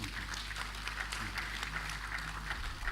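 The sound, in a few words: applause for the book author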